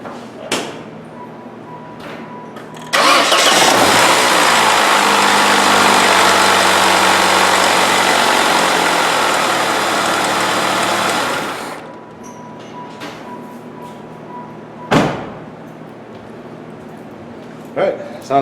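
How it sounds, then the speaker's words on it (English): A Saturn car's engine cranks and catches, then idles steadily at close range for several seconds before shutting off, with door-like thumps and clunks before and after. "I'm going to go ahead and turn the key and we'll fire it up."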